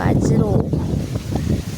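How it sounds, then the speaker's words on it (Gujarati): Strong wind gusts through a ripe millet field, buffeting the microphone in uneven rushes, while voices speak briefly over the blustery noise. "પવન બહુ ફૂલમ ફૂલ છે એટલે કદાચ પવનનો અવાજ પણ આવશે"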